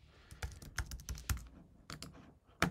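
Rapid keystrokes on a computer keyboard during software settings editing, an irregular run of crisp close clicks in short bursts with brief pauses, no voices.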